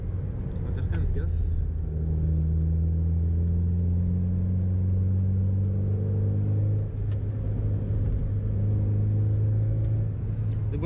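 A Mazda MX-5 NB drives along with a loud, steady engine drone and road rumble, the note holding fairly even with slight rises, heard from inside the car.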